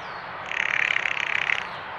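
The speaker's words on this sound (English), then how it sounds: "This rattle call is made only by females." A female blue jay gives a rapid rattle call, a dry, close burst of about a second made of fast, evenly spaced clicks, heard alone against faint background hiss.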